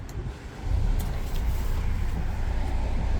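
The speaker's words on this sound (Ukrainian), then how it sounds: "заводимо двигун" A 2005 Mercedes-Benz 416 van's diesel engine, with 260,000 km on it, starts and rumbles low and steady, swelling after a brief dip as it catches and settles into a continuous drone with traffic-like noise around it.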